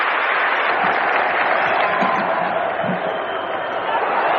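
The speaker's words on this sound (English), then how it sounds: "Acknowledges the applause of the crowd." Cricket crowd applauding steadily at a 1992–93 World Series Cup match as a batsman passes fifty, a dense continuous wash of clapping and murmur filling the whole stretch.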